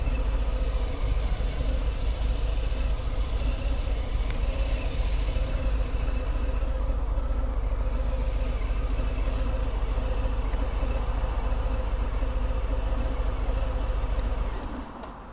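A 2018 Harley-Davidson Fat Bob 107 on the move, its engine a dense, steady low rumble that holds constant for about fifteen seconds before easing off at the end, with no talking over it.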